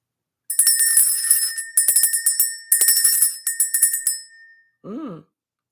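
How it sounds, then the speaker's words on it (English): A small bell is rung in several bursts of bright, ringing strikes with decaying tails, clear and close, followed by a brief low tonal sound at the end. "Let's ring the bell."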